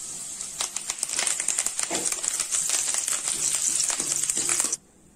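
Green chillies and curry leaves fry in hot oil for pohe chivda, giving a dense, crackling spatter of sharp pops and hiss that runs steadily, then stops suddenly near the end.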